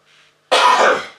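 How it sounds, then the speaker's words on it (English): A single harsh cough, loud and close, after a faint brief throat sound. "Sorry, excuse my cough."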